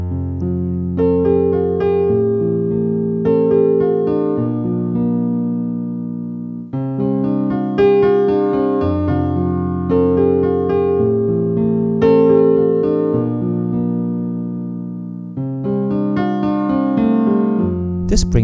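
A longer piano passage with both hands, chords and a moving melody across several phrases, played at an even, moderate volume with a sharp cutoff at the end.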